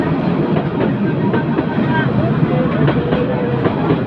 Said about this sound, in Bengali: ট্রেনটি তিতাস কমিউটারকে বসিয়ে আগে চলে যাচ্ছে লাইন ক্লিয়ার নিয়ে